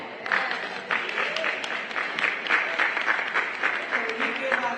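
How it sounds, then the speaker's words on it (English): An audience at a civil rights roundtable breaks into a sustained round of applause, a moderately loud, even wash of clapping that stays steady for several seconds, with faint voices beneath. "Round of applause now."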